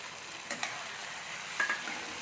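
Soaked sabudana stirred in ghee in a pan, a soft hiss under a couple of quick spoon scrapes and light metallic clicks, quiet and brief.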